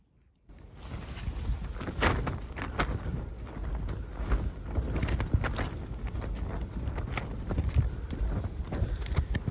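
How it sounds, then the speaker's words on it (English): Continuous rough wind buffeting the microphone on Dartmoor at night, loud and gusty, with rumbling low noise and irregular thumps throughout. "It's a windy one."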